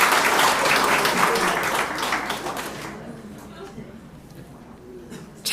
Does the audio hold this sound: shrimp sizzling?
no